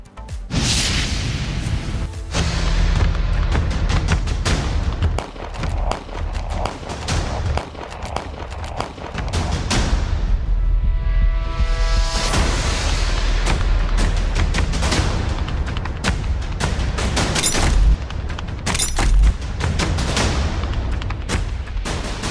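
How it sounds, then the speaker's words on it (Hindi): A dense hail of gunfire rattles on for over twenty seconds, bursts of rapid shots and heavy booms overlapping loudly with no pause, like a sound effect of sustained bullets. "गोलियों की बौछार।"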